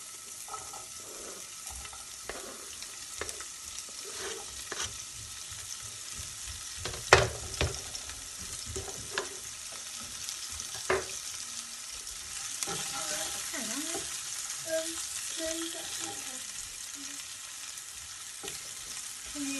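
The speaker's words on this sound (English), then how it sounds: "I'm going to add my basil stalks. They won't take long to cook, followed by my onion." Garlic, basil stalks and onion frying in a pan for tomato pasta sauce, heard as a quiet, continuous sizzle broken by a few sharp stirring clicks and scrapes, with no voices.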